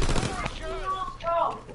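Rapid gunfire in Call of Duty WW2 online multiplayer, a dense burst of loud shots at the start, then a few more pops under a player's talking.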